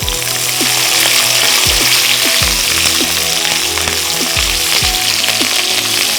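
Chopped onions frying in hot oil in a pan until golden brown, a loud steady sizzle with repeated scraping stirs and knocks of the spatula, no talk.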